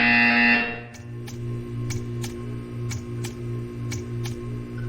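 A brief high tone sounds at the start, then a low electronic hum pulses with a series of sharp clicking beats at a regular rhythm, a buzzer in the game Portal 2.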